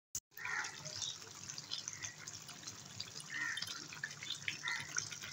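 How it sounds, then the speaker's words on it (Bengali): A pan of fish curry with ground cumin, coriander powder and fresh coriander leaves simmers on the stove, giving a steady, close bubbling and popping hiss with no talk. "আরও 2 মিনিটের মতো ফুটিয়ে নেব"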